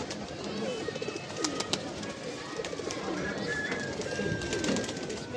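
Pigeons coo softly amid a busy outdoor background, with wing flutters and faint voices nearby.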